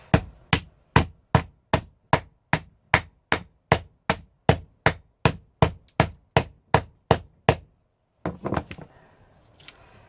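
A hammer strikes metal in a steady, rapid series of about nineteen sharp, loud blows while knocking parts out of scrap for copper salvage, followed by a clattering rattle as something shakes loose.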